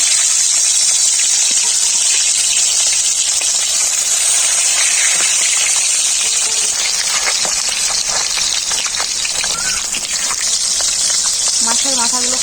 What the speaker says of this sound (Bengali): মাছের মাথা ভাজার জন্য সরষের তেল কড়াইতে দিয়ে দিলাম